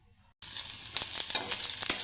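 Tomato chutney tempering (oggarane) frying in hot oil, a loud close sizzle that bursts in abruptly after a short quiet start and keeps crackling with sharp pops, no talk.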